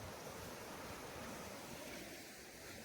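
Waterfall at Chikhloli Dam, a steady broadband rush of flowing water, faint and distant, with no voices.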